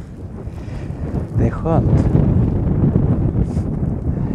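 Gusty wind roars steadily across the microphone outdoors in a snowstorm, loud and continuous, growing stronger after the first second, with a brief spoken remark partway through.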